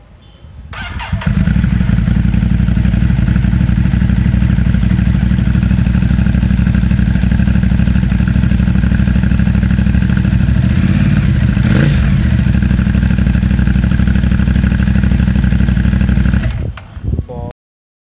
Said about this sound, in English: Now the Monster is a Ducati's entry-level naked sports bike